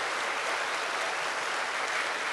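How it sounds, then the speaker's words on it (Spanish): Church congregation applauding at a Friday night vigil, a steady, dense wash of clapping from many hands that holds at an even level throughout, with no voices on top. "Entonces le damos toda la gloria a Dios el Padre con gran aplausos."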